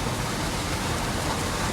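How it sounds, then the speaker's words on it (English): Heavy rain from Tropical Storm Isaac pours down in South Florida, making a dense, steady, loud wash of noise with no let-up and no voices. "A lot of rain."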